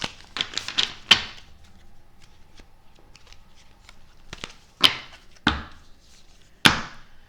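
Angel oracle cards being shuffled and drawn, heard as sharp, crisp snaps and riffles in scattered bursts, close and distinct against a quiet room.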